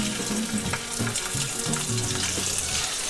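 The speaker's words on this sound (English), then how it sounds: "we're going to use the bacon's grease to saute the shrimp" Shrimp sautés in bacon grease for Cajun shrimp and grits, producing a dense, steady, hissing sizzle that stays close and loud throughout, with faint stirring underneath.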